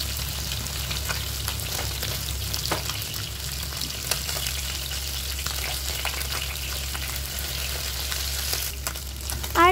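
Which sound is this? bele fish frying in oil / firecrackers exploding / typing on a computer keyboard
bele fish frying in oil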